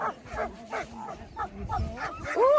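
Sled dogs barking and yelping out on the snow and ice of the Mendenhall Glacier in Alaska, a rhythm of repeated nearby barks and whines, with one loud high whine at the end.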